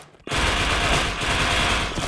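Automatic weapon gunfire in the Indonesian third-person shooter video game Wardeka, a dense loud burst of rapid shots starting abruptly after a brief quiet moment and continuing without pause.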